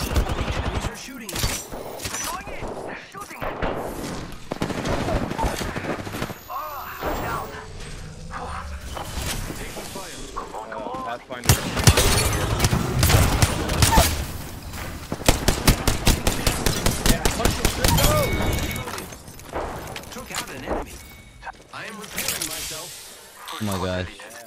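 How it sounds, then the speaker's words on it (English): Enemy gunfire in the battle-royale shooter Apex Legends: loud, dense bursts of rapid automatic fire and scattered single shots that keep coming in waves, layered with other game effects. "The enemies are shooting."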